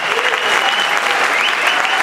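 An audience at a boogie concert claps in a dense, steady burst of applause, loud and close, with no other sounds standing out.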